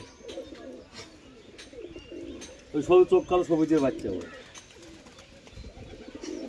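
Pet pigeons at a loft coo in a short run of rhythmic, throaty pulses close by, and someone talks before and after.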